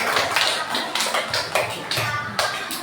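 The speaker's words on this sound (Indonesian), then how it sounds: "Tepuk tangan untuk kelompok kinestetik" Classroom students applaud a kinesthetic learning group, a quick, moderately loud run of clapping with a rhythmic pulse of hand strikes and some shuffling, heard close.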